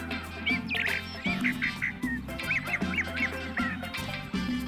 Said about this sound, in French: Bien sûr, c'est un gazouillis d'oiseau.